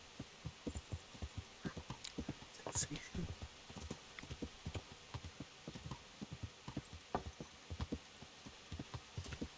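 Steady clip-clop of horse hooves in the video game Kingdom Come at a quick, even rhythm, a little distant and muffled, with a low hum underneath.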